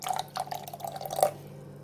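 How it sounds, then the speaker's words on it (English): Water poured into egusi stock in a cooking pot, a brief run of soft splashing and dripping with small irregular plops, close and fairly quiet. "You add a little bit of water."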